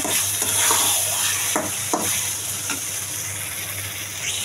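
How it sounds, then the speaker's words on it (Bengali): Cubed taro frying in a pan, heard as a continuous hiss of sizzling oil with several sharp scraping strokes of a spatula stirring it early on, close up and without speech. "ভালো করে নাড়াচাড়া করে ভেজে নেব।"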